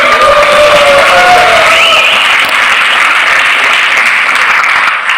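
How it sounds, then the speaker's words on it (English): A large audience at the Amway India Leadership Summit 2025 cheers and applauds loudly and steadily, a dense wash of clapping with shouts and whistles that holds for several seconds before easing slightly at the end. "So you should have a big cheer for all of them."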